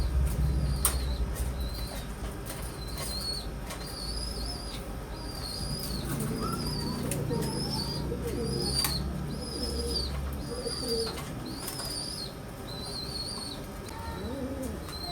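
Breeder pigeons in a loft coo low and continuously while birds twitter and wings flap in bursts, with chirps scattered throughout.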